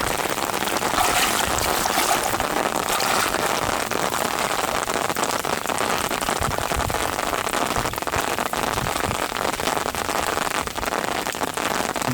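Steady rain falling, a dense continuous hiss of drops pattering on surfaces with no pauses or voices.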